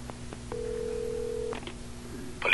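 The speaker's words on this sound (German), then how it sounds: "Telefonieren." A telephone call in the Alan Wake video game: a few faint clicks, then a steady electronic tone for about a second, followed by brief beeps and a louder burst at the end, with no talk.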